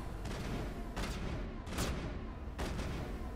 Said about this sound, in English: they're shooting these big rockets out here,